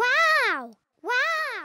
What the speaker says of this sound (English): It's your echo.